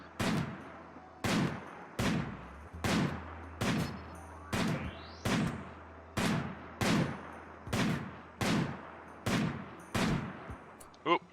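Video game gunfire comes as a steady string of about a dozen sharp, evenly spaced shots, each with a short ringing tail, over a low background hum.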